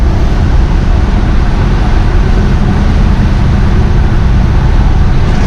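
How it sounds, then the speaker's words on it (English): A 1963 Chevrolet Impala cruises with dual exhaust through glass pack mufflers, a loud, steady rumble mixed with road noise that stays constant from start to finish, with no talking. "You can hear that dual exhaust on it. It does have glass pack mufflers on it, so it gives you a little bit of sound."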